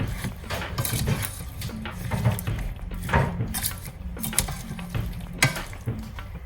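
Mixed vegetables for Kerala-style kadhamba sambar stirred in a pot, a close run of wooden scrapes and clattering knocks against the pot over a low bubbling sizzle, without talk.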